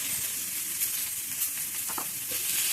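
Arum root curry with salt sizzles and fries in a pan, a steady close broadband hiss with faint stirring scrapes and no talk.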